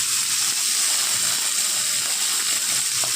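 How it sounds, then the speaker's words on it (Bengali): Spring onion, tomato and ginger hiss and sizzle steadily in hot oil in a pan, a dense, even frying noise that carries on without a break. "পেঁয়াজ কলি, টমেটো আর আদাটা তেলের মধ্যে একটু নেড়ে দিয়ে দিচ্ছি"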